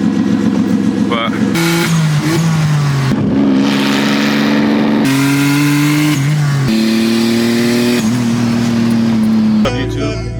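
Turbocharged Nissan Maxima making over 550 wheel horsepower, revving and accelerating hard through several gear changes, its loud, close engine note climbing and dropping in pitch with each shift while people talk over it.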